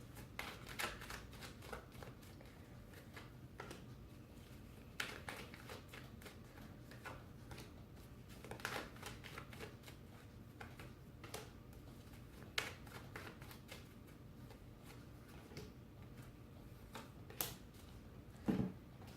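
Tarot cards being shuffled and drawn, soft scattered flicks and light taps close by in a quiet room, with no talking.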